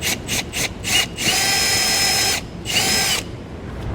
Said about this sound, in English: 5/16 drill bit. We're gonna open that hole up